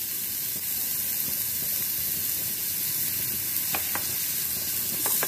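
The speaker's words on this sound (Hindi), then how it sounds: "तो अब हम इसमें प्याज ऐड करेंगे, गाजर ऐड करेंगे, इन्हें फ्राई कर लेंगे।" Onions, carrots and green chillies frying lightly in a pan for a semolina breakfast stuffing, a constant hissing sizzle with occasional stirring clinks, close and without speech.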